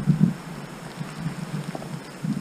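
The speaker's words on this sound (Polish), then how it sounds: "Jeszcze dodatkowo wieje wiatr i to powoduje, że chłodno się robi." Gusty, chilly wind on a mountain summit in the Beskids buffets the microphone in low, uneven rumbles, swelling at the start and end.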